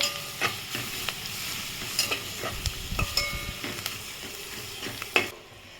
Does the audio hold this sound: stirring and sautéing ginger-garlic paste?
yes